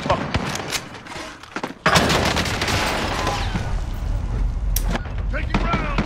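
Incoming gunfire in Call of Duty Warzone, sharp cracks and thuds arriving in rapid bursts, growing heavier and more continuous partway through, with a player's voice talking over the shots.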